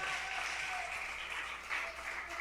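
A church congregation applauds in praise, a steady wash of clapping from many hands held at an even level throughout, moderately distant with no voices above it.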